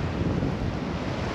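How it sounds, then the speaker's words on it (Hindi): Sea waves wash against the rocky shore below a path near Somnath, a steady close roar of surf mixed with buffeting wind noise, with no talking. "ये देखिए समंदर देखिए, नीचे समंदर है"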